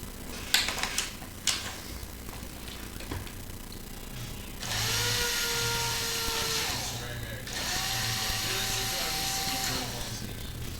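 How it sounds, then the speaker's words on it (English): A powered screwdriver backs out the four screws of a Rock 'em Sock 'em Robots toy, giving two long steady whirring runs after a few sharp clicks, with a person talking nearby. "We'll remove the 4 screws, and then I'll show you how to get these things modified."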